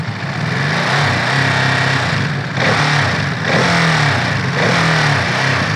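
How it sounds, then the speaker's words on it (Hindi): A Ducati Monster's L-twin engine revs up close and loud, its throbbing exhaust note rising and falling through several throttle blips in a steady, rhythmic pattern with no talking. "एक बार इसको स्टार्ट करके रैप कर दो कि एक्चुअल में है कैसा साउंड इसका"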